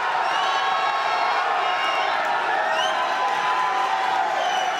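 A loud Irish crowd cheers and shouts continuously at a Muay Thai event, forming a dense, unbroken roar throughout.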